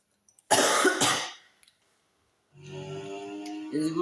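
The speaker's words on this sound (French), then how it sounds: "Je suis désolé de tousser, je suis encore malade." A burst of harsh, loud coughs close to the microphone, followed after a pause by a person talking.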